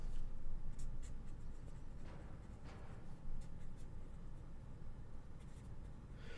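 A pen or pencil scratches across paper as a note is jotted down, a close, steady run of short scribbling strokes and taps lasting several seconds, with no speech.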